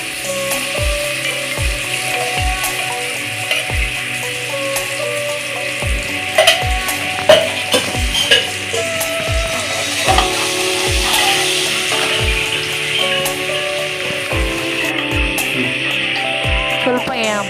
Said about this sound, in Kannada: ನೆಕ್ಸ್ಟ್ 2 ಸ್ಪೂನ್ ಎಣ್ಣೆ ಹಾಕ್ಕೋತಾ ಇದ್ದೀನಿ.